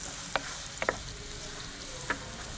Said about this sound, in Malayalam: നമുക്ക് കുറച്ച് ഉപ്പും കൂടി ഇട്ടിട്ട് ഒന്ന് വഴറ്റിയെടുക്കാം